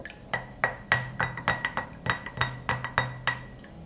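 A milk and water mixture is stirred in a container, a quick series of about a dozen clinking taps of the stirrer against the sides, close and crisp with no talking.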